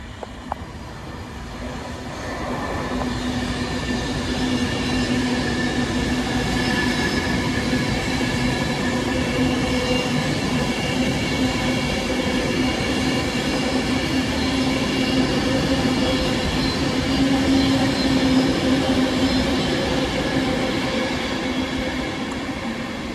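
An Avanti West Coast passenger train from Carlisle to London Euston passes through Stoke-on-Trent station, a steady loud rumble and rail roar with humming tones and a brief squeal, sustained for the whole pass.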